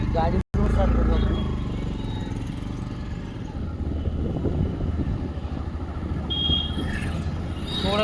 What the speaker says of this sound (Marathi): गाडी स्टार्ट करू आपण